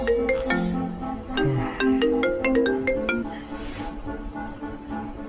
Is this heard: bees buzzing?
no